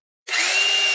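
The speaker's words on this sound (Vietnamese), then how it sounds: "mình khoan thử nhé, cây lớn luôn" A large 1300 W three-function power drill starts abruptly and runs steadily at high speed with a whining motor as it bores into a big log of wood, loud and close.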